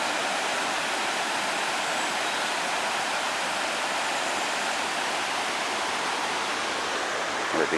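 A waterfall somewhere in Europe roars as a steady, loud broadband rush of falling water, unbroken throughout and close by, with no voices.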